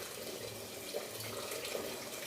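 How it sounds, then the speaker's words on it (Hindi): Water poured from a tap into a pot of rice during home cooking, a steady faint splashing trickle that runs evenly throughout with no voices. "देखिए पानी को डाल दिया इसमें।"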